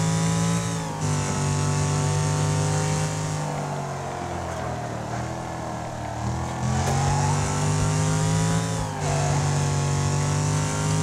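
Car engine in the racing game Wreckfest revving hard at full throttle, a loud, sustained droning roar with rising and falling pitch as gears shift, nearly continuous across the stretch.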